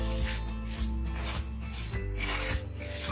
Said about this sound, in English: And keep stirring it while you're roasting them.